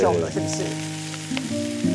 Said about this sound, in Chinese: 那我们这煎一煎之后呢